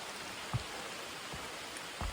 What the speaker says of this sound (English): And so it's raining, of course.